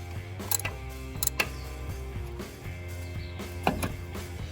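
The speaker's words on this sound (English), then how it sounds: "Now that the motor mount is separated, I will remove all the bolts." Ratchet clicks and sharp metallic ticks in irregular short runs as a wrench loosens motor mount bolts on a 2014-or-later GM truck or SUV, close and fairly quiet over a steady background hum.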